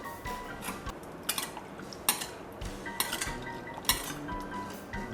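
Seasoned lime pork being mixed in a bowl, with a utensil clinking and scraping against the bowl in quick irregular bursts, close and moderately loud, with no talking.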